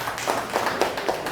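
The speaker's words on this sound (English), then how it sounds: "You can clap it up for that." Audience clapping at a youth empowerment show after a speaker's announcement, a moderately loud, steady patter of many hands with repeated bursts, fairly close, with no talk over it.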